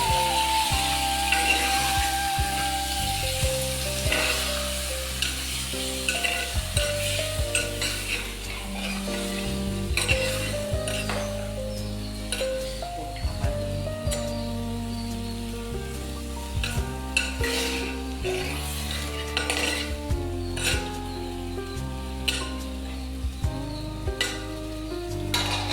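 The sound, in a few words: stirring and frying milk chicken curry in a pan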